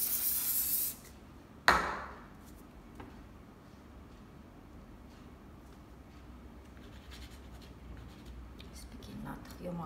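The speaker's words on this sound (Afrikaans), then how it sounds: "so ek spuit gou by hom" Fixative is sprayed onto a soft pastel landscape painting in a short hissing burst, then a second brief sharp puff follows, leaving quiet faint rubbing and scratching.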